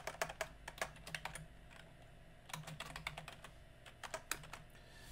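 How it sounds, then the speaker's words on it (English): Keys clatter on a computer keyboard during a class demonstration, coming in quick irregular bursts of close, crisp clicks separated by short pauses, with no voices. "I'm going to type wash your hands."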